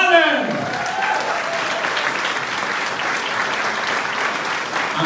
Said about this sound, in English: would you please give a big round of applause for Liam Mallon?